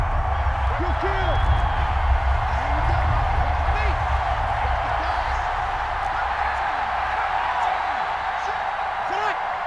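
A stadium crowd in the Madden 21 football video game roars steadily throughout a Dallas vs New Orleans game ahead of a big third down, a dense, continuous cheer with scattered whoops.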